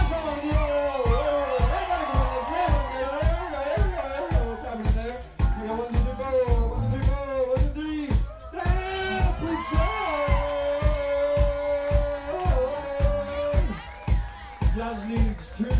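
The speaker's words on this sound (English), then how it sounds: "Cheer Pete on, everyone, everyone, Pete will win." Crowd at an oyster festival eating contest cheering and shouting encouragement, with a voice urging on one contestant and dense, continuous loud talk and whoops throughout.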